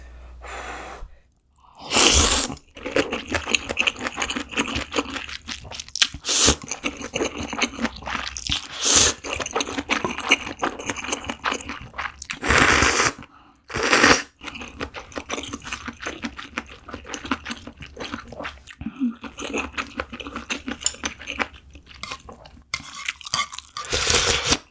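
Aged kimchi (mukeunji) eaten with spicy Shin ramyun, close crunchy chewing and biting in dense repeated bursts with brief pauses, loud and near with no talking.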